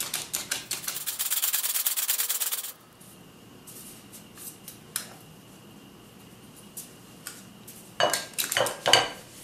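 Biscuit dry ingredients being sifted in a hand-cranked flour sifter, heard as a close rapid metallic rasping that stops abruptly, followed by a few scattered clinks and scrapes.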